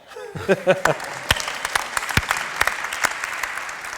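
Summit audience in a conference hall breaking into applause, a short voiced exclamation at the start, then scattered claps and a dense ripple of clapping that stays moderately loud and steady.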